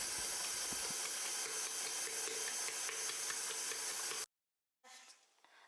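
A stand mixer kneading milk bread dough at medium speed gives a steady, even whirring hiss that runs unbroken, then cuts off abruptly; after a short silence, softer handling noises follow.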